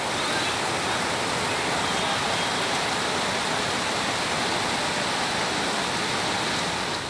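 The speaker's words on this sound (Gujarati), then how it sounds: "ભારે વરસાદથી ગામની શેરીઓ જાણે કે નદી બની ગઈ હોય તેવા દ્રશ્યો સામે આવ્યા." Heavy rain flooding village streets in North Gujarat makes a dense, unbroken roar of falling and rushing water, loud and even throughout with no voices.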